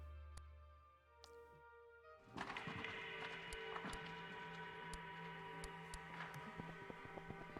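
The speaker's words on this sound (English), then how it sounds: "Good footstep sounds." Footsteps in the mountain-climbing roguelike video game Insurmountable, a series of soft crunching steps at an irregular walking pace over a steady ambient bed, starting after a brief quieter stretch.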